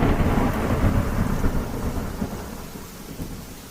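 Heavy rain pours steadily while deep thunder rumbles, loud at first and slowly fading toward the end.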